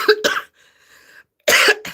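A person coughs in two sharp bursts, then a quiet pause, then another harsh cough, close and loud with no talking.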